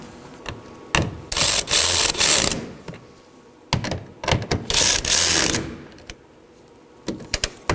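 A socket ratchet clicks in two quick bursts of rapid pawl ratcheting, separated by short pauses, as the taillight bolts are snugged down on a 2014-2019 Nissan Sentra; near and loud, with no talking.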